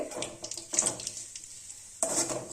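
Soft sizzling of whole spices (bay leaves, a dried red chilli and cumin seeds) in hot oil with occasional stirring scrapes, two louder bursts of crackle separated by a quieter stretch.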